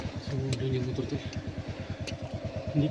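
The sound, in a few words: motorcycle engine running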